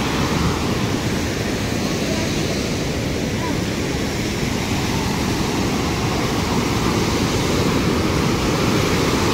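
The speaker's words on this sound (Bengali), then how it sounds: "এখান থেকে ওয়াটারফলটা একদম সেই লাগছে। আর এই জলটা এখান থেকে বেরিয়ে যাচ্ছে" A waterfall and its rushing stream current pour out as a steady, loud, unbroken roar of broadband water noise, close by and alone throughout.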